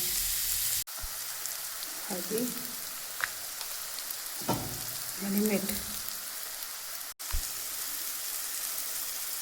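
Green chilli and garlic sizzle in hot oil for a tempering, a steady crackling fry close to the pan with a few brief stirring scrapes and someone talking over it.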